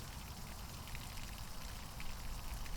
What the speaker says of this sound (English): we can use a directional attachment on our hose, keeping the water away from the leaves